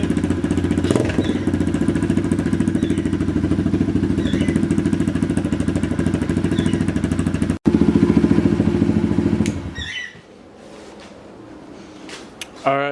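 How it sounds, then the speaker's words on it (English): A worn dirt bike engine running right after starting on the first kick, a steady loud chugging idle with a brief catch midway, then cutting out and leaving quieter clatter. "Alright, so the bike runs."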